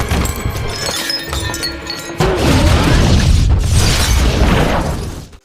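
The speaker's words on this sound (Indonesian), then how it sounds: "bom tersebut akhirnya meledak bersama Lisa yang masih ada di dalam ruangan." A bomb explodes in a film: a loud blast with crashing debris and shattering glass, followed by a rumbling roar of destruction that slowly fades.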